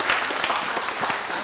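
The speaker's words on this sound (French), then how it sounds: "Merci de l'applaudir pendant qu'il nous rejoint" A studio audience at a French-language TV entertainment show claps for an arriving guest, a brief, fairly soft patter of applause with no voices.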